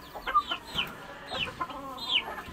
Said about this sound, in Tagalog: Bata pa yan, ating manok na yan.